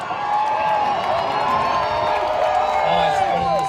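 A large crowd cheers and shouts at Silverstone on British Grand Prix media day, a continuous loud wash of voices and whoops.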